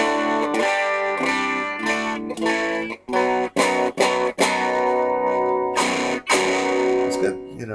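A guitar played through a distortion stomp box rings out in loud, sustained chords and notes, broken by several brief choppy stops and restarts, with a gritty, saturated tone throughout.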